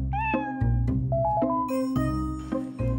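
Several cats meow close by while a small child teases them at home, with repeated loud, drawn-out meows and overlapping cries in quick succession.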